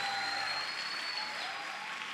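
A church congregation applauding during a sermon, a steady wash of clapping at moderate distance with a faint sustained tone running through it.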